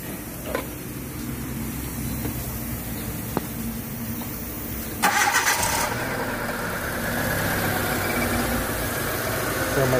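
A car engine, freshly repaired after overheating with a new water pump, cranks and catches with a sharp burst, then settles into a steady, fairly loud idle hum with a faint mechanical whine from the cheap water pump.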